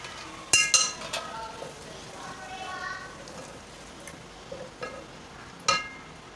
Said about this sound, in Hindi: अब चूल्हा स्लो करके हम दही डालते हैं।